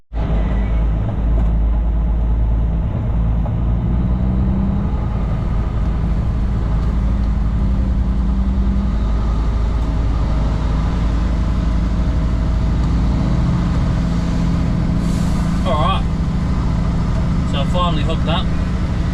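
A truck engine idles with a steady low rumble while air pressure builds in the B trailer, a continuous loud drone with faint higher hissing bursts near the end, no talking.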